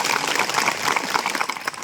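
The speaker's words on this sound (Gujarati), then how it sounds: "એમના માટે જોરદાર એકવાર તાળીઓ પાડો" Crowd applause for village sarpanches at a public gathering of Dediyapada and Sagbara tribal communities, dense steady clapping from many hands, close and continuous for the whole short stretch.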